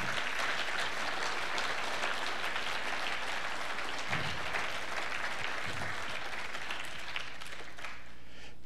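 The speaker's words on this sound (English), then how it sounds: "but let's give them a round of applause in absentia." Audience applause at an awards event, steady dense clapping throughout that fades slightly toward the end.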